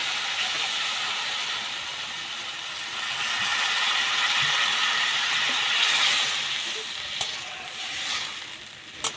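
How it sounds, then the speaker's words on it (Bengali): Water hits frying tomato masala in a pan, setting off a loud, steady hiss and crackle that swells then eases, with a couple of sharp clicks near the end and no voices. "এবার আমি এতে একটু জল দেবো।"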